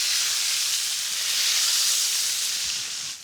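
Bacon sizzles on a Weber Slate griddle, giving a steady, close, bright hiss that carries on without pause and fades slightly at the end.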